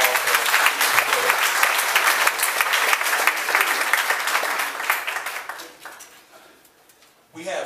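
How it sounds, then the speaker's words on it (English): Audience applause at a community and police town hall, a dense round of many hands clapping that holds steady for about five seconds and then tapers off. "So let's give a round of applause for her."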